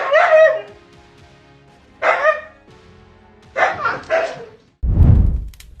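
A frightened dog barks loudly and close by in a house, four sharp barks spaced unevenly, two of them in quick succession, followed by a low thump.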